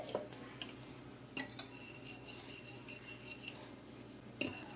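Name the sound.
mixing cake batter in a bowl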